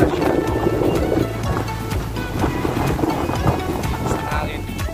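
Strong wind gusting outdoors, buffeting loudly and steadily across the whole stretch with rumbling low blasts and a few faint voices underneath.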